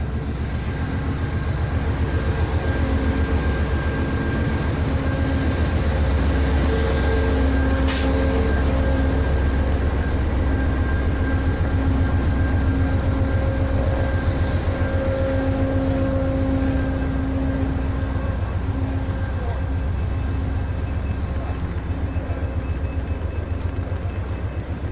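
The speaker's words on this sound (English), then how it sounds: "Join the queue for boarding for my train, which you can hear over in the distance. Powered by a GE Genesis" An Amtrak Pacific Surfliner train with a GE Genesis locomotive idles in the distance at a boarding platform, a steady loud diesel drone with tonal hum lines and a brief sharp clank midway, no talking.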